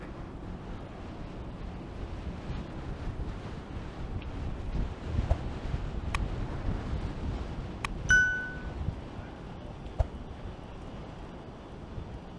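Strong wind buffeting a microphone while walking along Toronto's Queens Quay waterfront in March, a steady low rumbling roar with a few faint distant dings and brief clicks.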